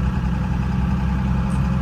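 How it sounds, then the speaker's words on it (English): A five-speed car engine hums steadily from inside the cabin, a continuous low drone with no clear shift or break over a couple of seconds. "In the five speed,"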